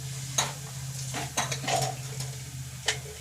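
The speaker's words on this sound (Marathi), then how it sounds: "आता चटणी टाकते याच्यामध्येच, तेलामध्ये किती लागते तेवढी टाकून घ्यायची तेलामध्ये चटणी" Chili powder going into hot oil in a pan for a drumstick vegetable curry, with a soft steady sizzle and several scraping stirs of a spoon against the pot, close and fairly quiet.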